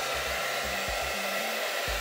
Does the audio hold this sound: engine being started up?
no